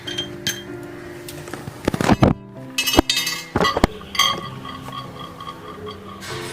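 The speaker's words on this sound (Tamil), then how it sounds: "இப்போ இந்த 2 அப்பளத்தையும் நம்ம மைக்ரோவேவ்குள்ள வச்சிடலாம். இப்போ மைக்ரோவேவ்ல இந்த கிளாஸ் மேலேயே தான் நம்ம அப்பளம் வைக்க போதும்." Papads set down on a glass plate inside a microwave give sharp clinks and hard knocks, a scattered run of close glass-on-glass taps and thuds with short gaps between them.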